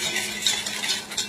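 Powdered gelatin stirred into cold water in a bowl, a steady soft scraping and swishing with light utensil clicks throughout, close and moderately quiet with no talking.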